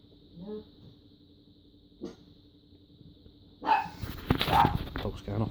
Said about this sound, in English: Dog's going off on one.